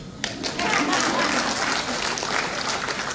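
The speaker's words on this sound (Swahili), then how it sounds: "Jamani, makofi kwa sabuni." Audience at a Tanzanian weekend function bursting into applause, a dense, loud wash of many hands clapping that starts abruptly and holds steady for a few seconds.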